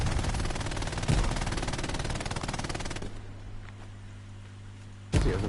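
In the video game Hell Let Loose, a machine gun fires in a rapid continuous burst for about three seconds, loud and close, then stops before a single heavy report lands near the end.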